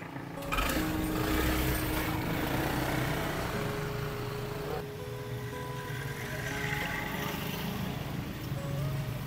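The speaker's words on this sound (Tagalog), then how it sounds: "Pero, Do, napakaganda ng binili niyang motor, no?" A motorcycle engine running nearby: a steady, buzzing mechanical drone with a faint whine that holds at a fairly constant pitch throughout.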